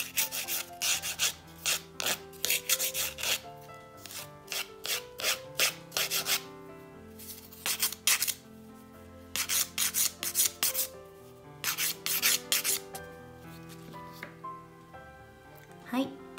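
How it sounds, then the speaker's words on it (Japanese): Nail file rubbed back and forth over an acrylic nail to shape it, producing quick rhythmic rasping strokes in bursts with brief pauses, close up, with soft background music underneath. "ファイルを当てていきます。 ちょっとこの時に形が気になるようであれば形も 削っちゃいます。"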